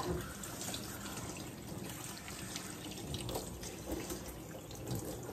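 Tap water runs steadily into a bath while a French Bulldog is rinsed, making a continuous, fairly quiet splashing rush with small fluctuations and no talking.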